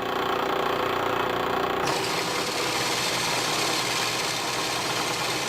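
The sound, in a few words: motorized skate test rig motor with wheels against brake drum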